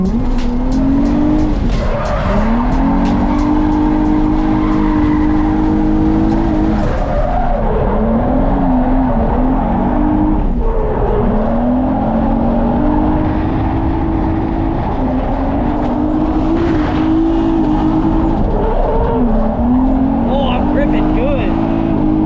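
A drift car lapping a track roars close with a wavering engine note as revs rise and fall through slides, with tire squeal layered in, loud and continuous throughout.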